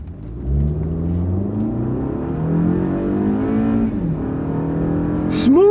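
A Toyota Camry with traction control off accelerating from a stop, its engine rising smoothly in pitch as the multi-speed automatic transmission shifts up, heard from inside the car with the engine in the foreground.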